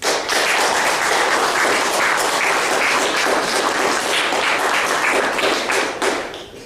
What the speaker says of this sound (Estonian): Teeme aplaus.